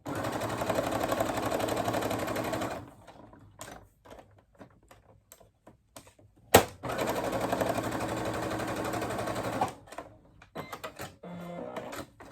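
A sewing machine stitches a small section onto a boxed zipper pouch with handles, running in loud steady bursts with a pause of scattered handling clicks before it starts up again.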